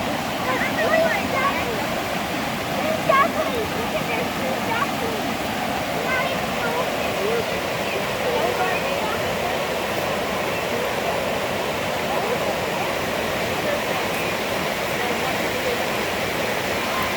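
Creek water flows steadily at a salmon fish hatchery, a continuous broad rushing wash that holds even for the whole stretch, close and fairly loud, with no talk over it.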